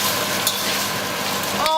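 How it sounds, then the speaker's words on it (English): Noodles stir-fry in a pan, a steady loud sizzle and crackle close up, with a faint scrape of stirring near the end. "now you're gonna stir fry these babies until they've taken on some color"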